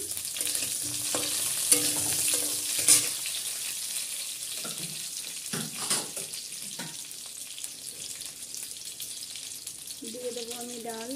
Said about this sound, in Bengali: আমি একটু ভেজে নেবো 1 মিনিটের মতো।